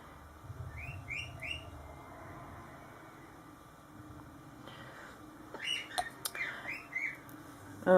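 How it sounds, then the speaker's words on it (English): A pet bird chirps indoors in the background, short bright tweets in a few clusters, faint and intermittent over a quiet room. "you can hear my bird in the background chirping away"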